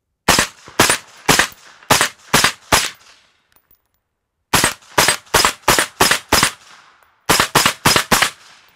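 Rifle shots ring out against a short-range steel target in three loud, close strings of evenly spaced cracks, separated by brief pauses.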